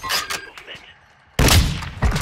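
Sniper rifle shots in a video game, a couple of sharp, loud cracks with a heavy booming blast after a short quiet gap.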